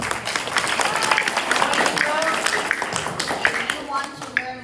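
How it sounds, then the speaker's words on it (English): Audience applause at an elementary school event, a steady wash of clapping throughout with a few voices and cheers mixed in. "Another big round of applause."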